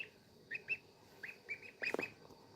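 Young goslings give a few short, high chirps in scattered bursts, close and fairly quiet, with one louder, busier flurry of peeps near the end and no talk.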